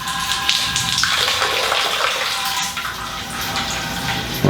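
Homemade wine drains steadily from a vessel into a sanitized secondary fermenter, a continuous close pouring, gushing flow with splashing that holds throughout at fairly loud level.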